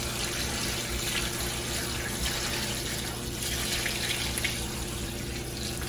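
Tap water pours steadily into a large stock pot holding collard greens, bacon, onions and garlic, making a continuous close rushing splash with no talking.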